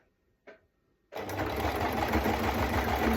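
A domestic sewing machine edge stitching a pot holder starts after a brief soft knock and runs in a fast, even, close whirring chatter of needle strokes that continues to the end.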